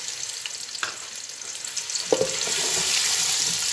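Whole cumin seeds and medium onions fry in a pan, a steady close sizzle that swells after a couple of soft stirring knocks and then continues evenly.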